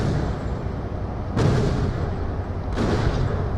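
Two heavy booming rocket blasts hit a secret boss named Iwajira in a video game, each a sharp burst that fades into a low rumble, spaced about a second and a half apart over a constant game background.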